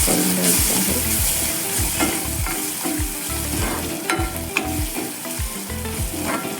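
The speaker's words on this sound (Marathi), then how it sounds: "आता हे आपण व्यवस्थित मिक्स करून द्यायचं आहे" A spoon scrapes and stirs steadily through onion sizzling with red chili powder and black masala in a hot pan for a Maharashtrian masoor bhaji, the frying hiss loud and close under rhythmic scraping.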